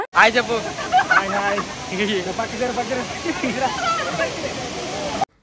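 Muddy waterfall water pours with a hissing, splashing rush, with people talking loudly over it the whole time.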